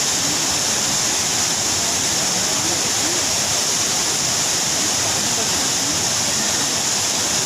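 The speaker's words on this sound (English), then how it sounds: "This waterfall is equally breathtaking." A waterfall near Munnar in Kerala sends out a steady, dense roar of falling water, continuous and loud throughout with no breaks.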